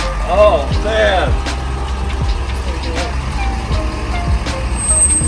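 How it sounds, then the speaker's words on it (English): A large truck backs up with a steady series of reversing beeps over a continuous engine rumble, close by and loud, with brief voices early on. "Dude, that's a sexy truck right there."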